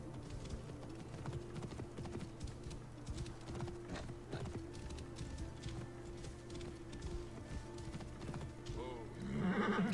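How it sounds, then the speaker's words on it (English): Horse hooves clip-clop and a horse whinnies in the Assassin's Creed Origins video game, steady throughout over a dense game soundtrack, with a player's voice speaking along with it and a louder burst near the end. "And then immediately call back my horse."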